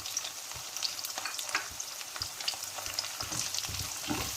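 Cumin seeds, curry leaves and dry red chillies crackle and sizzle in hot oil for a brinjal gravy, a steady close frying hiss broken by scattered pops and spoon clinks against the pan, with no talking.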